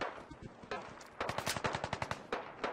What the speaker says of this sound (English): That guy's just blind firing.